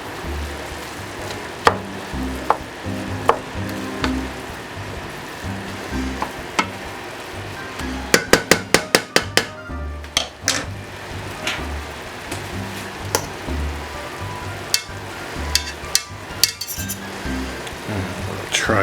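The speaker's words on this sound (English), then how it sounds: "cooking chard. Let's give it a stir." Swiss chard being stirred in a frying pan, with a steady sizzle underneath and scattered clinks of a utensil against the pan, including a quick burst of rapid scraping taps midway.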